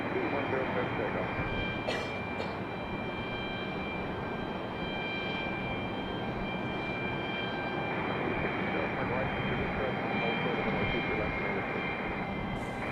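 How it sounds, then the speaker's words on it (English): An American Airlines Airbus A321 jet taking off from Raleigh-Durham International Airport gives a steady, broad engine roar at moderate distance, with a person talking over it. "And that American A321 making its way up the hill as well."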